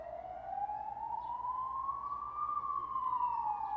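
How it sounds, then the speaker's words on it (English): An ambulance siren on a street in central Kyiv wails in a single slow rising and falling sweep, fairly distant and faint over low traffic rumble, with no speech. "I think it's an ambulance."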